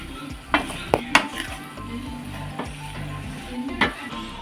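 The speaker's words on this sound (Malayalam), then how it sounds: "ഇത് നമുക്ക് എല്ലാം കൂടെ ഒന്ന് മിക്സ് ചെയ്യാം" Chicken and finely sliced onions being stirred together in a pan for a Kerala-style chicken roast, with a steady sizzle under scattered clinks and scrapes of a spoon against the pan.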